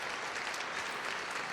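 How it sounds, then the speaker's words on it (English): Audience applause in a live stream after a voting contest result, steady dense clapping throughout without pause. "Round of applause for you."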